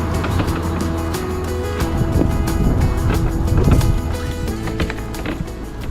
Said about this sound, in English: So with this scarifier, the blades are turning round and they spit it all out behind the machine.